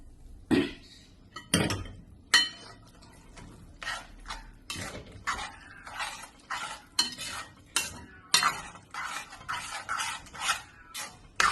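Cooked green peas go into a masala pan for green peas curry, with repeated close spoon scrapes and metallic clinks against the pan over a faint sizzle.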